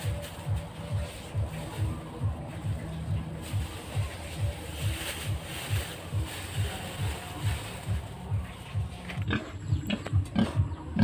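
Farm pig grunting in a steady, repeated rhythm of short low grunts, close and fairly loud, continuing for several seconds before shuffling and handling noises take over near the end.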